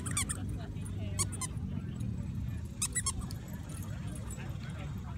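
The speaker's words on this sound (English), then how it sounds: "This is a handsome looking dog." A dog gives several short, high-pitched whimpers in three brief bursts over a steady background murmur of people talking nearby.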